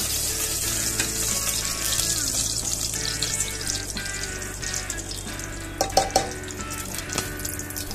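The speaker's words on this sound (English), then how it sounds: "Let me saute." Dry spices sautéing in hot oil in a handi for chicken biryani, a steady soft sizzle and crackle with a faint tonal hum underneath and a few clinks of a spoon against the pot near the end.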